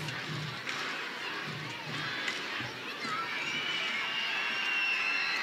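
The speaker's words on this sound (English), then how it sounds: "Crowd getting into it a little bit" Baseball crowd in the stands at a minor-league Salem Red Sox versus Delmarva Shorebirds game, with a steady far-off murmur and cheering that swells gradually, with scattered shouts and whistles under it.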